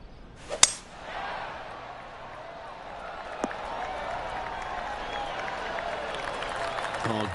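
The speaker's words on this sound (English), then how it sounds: "Oh, golf clap." Golf crowd applause in the PGA 2K23 video game swells after a sharp tee-shot strike, then continues as a steady, moderate ripple of clapping.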